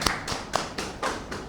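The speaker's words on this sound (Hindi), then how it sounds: "तालियां।" A few hands clapping at a website launch for Roxy Studios, a handful of separate, fairly soft claps spaced out in an uneven rhythm.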